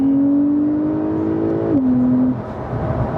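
A Porsche 911 Carrera S (992) engine in sport mode gives a loud, close, steady drone that dips sharply partway through and settles lower, with no voices over it.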